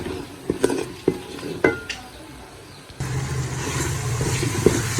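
A spice masala with chopped tomatoes sizzles in a pan, punctuated by several sharp clinks of a spoon against the metal, then a steadier frying hiss as stirring continues.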